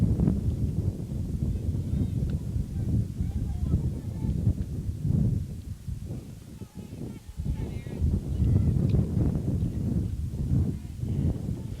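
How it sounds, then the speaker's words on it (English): Gusty wind buffets the microphone at an outdoor softball game in windy, rainy weather, a low continuous rumble rising and falling in strength throughout. "Getting windy and rainy here"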